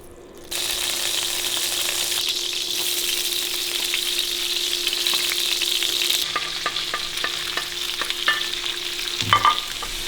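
Vegetables stir-fried in peanut oil in a Chinese home kitchen. The sizzle starts abruptly, then holds loud and steady, with spatula scrapes and clinks growing busier toward the end.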